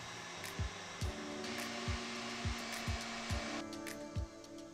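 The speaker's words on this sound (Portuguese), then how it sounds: "Agora é só a gente bater até elas virarem claras em neve." Electric mixer beating egg whites with added lemon into stiff peaks, a steady loud motor whir with repeated knocks of the beaters against the bowl, no talking.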